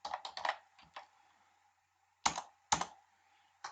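Computer keyboard typing in LibreOffice Writer: quick bursts of clicky keystrokes, a short pause, then a few more separate taps, close and fairly quiet.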